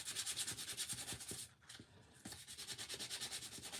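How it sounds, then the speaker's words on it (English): Sanding a burn barrel snowman craft piece before painting, a quiet rhythmic rubbing of repeated back-and-forth strokes that pauses briefly midway, then resumes. "Now, this needs to be sanded so that the paint sticks to it."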